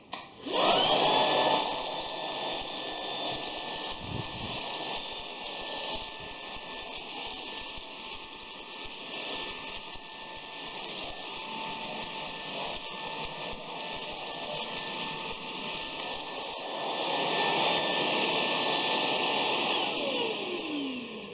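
A cordless vacuum cleaner runs with a steady, loud motor whine and airflow rush. The hum holds nearly constant, then swells a little louder near the end.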